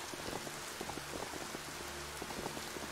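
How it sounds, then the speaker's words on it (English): Steady heavy rain falls in the video game Biomutant, a dense continuous hiss of drops pattering on surfaces with no voices over it. "Well, it's proper raining, isn't it?"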